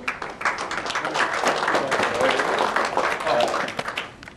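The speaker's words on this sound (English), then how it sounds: "we'll give them all a round of applause" Steady applause from a crowd at a gubernatorial candidates' event, many hands clapping continuously at moderate volume for several seconds.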